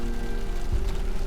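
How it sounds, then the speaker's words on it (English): Hail falls in a steady pattering rush on a snowy June mountain trail beside Jeeps, with a faint hum underneath and one brief low thump, no voices. "It's hailing now."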